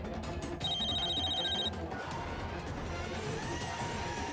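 A telephone rings in a short burst of bright electronic trills over a dense background of music or room noise, then stops while the low ambience carries on.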